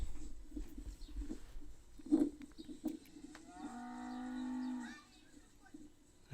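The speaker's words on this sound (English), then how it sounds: "This is a goat fucking up a cow." A cow gives one long drawn-out moo in a farm setting, fairly close and clear, preceded by scattered thumps and rustling noises.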